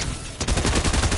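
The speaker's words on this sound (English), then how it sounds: "he has SMG." Rapid submachine gun fire in Fortnite erupts after a brief quiet moment, a loud, dense stream of shots pulsing in quick bursts up close, with no voices over it.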